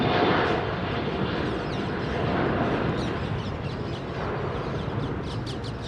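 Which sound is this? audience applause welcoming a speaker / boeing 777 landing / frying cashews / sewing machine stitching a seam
boeing 777 landing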